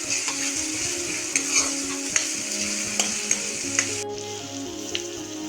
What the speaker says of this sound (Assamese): গোটেইখিনি পিঁয়াজ, নহৰু, আদা, জলকীয়া সকলোখিনি ভালদৰে ভাজি লৈছোঁ